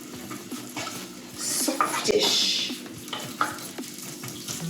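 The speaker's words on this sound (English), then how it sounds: "Onion, and then just saute that until it's, you know, softish." Chopped onion sautés in a pan for mushroom risotto, giving a steady soft sizzle with scraping and stirring clinks of utensils against the pan, heard close.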